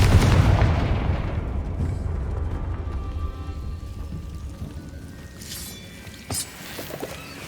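A Confringo blasting spell going off in Hogwarts Legacy: a loud, booming fiery burst that fades into a rumbling tail, followed by fainter crackles and a sharp crack near the end. No voices.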